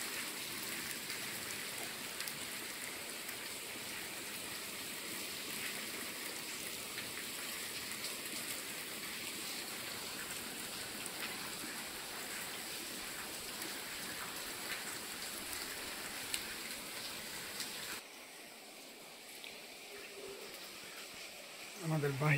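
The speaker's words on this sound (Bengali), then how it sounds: "বাইরে বৃষ্টি হইতেছে।" Steady rain falls outside, heard from indoors by a kitchen on a rainy morning. The hiss is dense and continuous, then thins and quiets briefly near the end.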